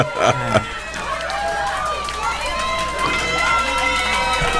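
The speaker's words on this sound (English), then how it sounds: "that whole crowd back there is cheering for him" Wrestling crowd cheering for Gusten Uberstud at a Royal Ramble event, a steady wash of shouts and whistles from many voices, with cheers rising and falling throughout.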